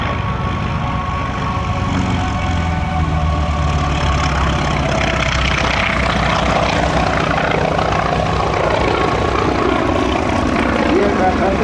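Propeller aircraft flying at the Geneseo, NY 2025 airshow, a former movie plane fitted with an upgraded gun sight and rocket pack, its steady engine drone running loud throughout and swelling toward the end, with people talking over it.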